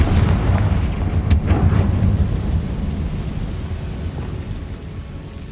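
The Confringo fire spell in the Hogwarts Legacy video game goes off as a loud, deep explosive blast with a sharp crack partway through. A low rumble follows and slowly fades; no voices are heard.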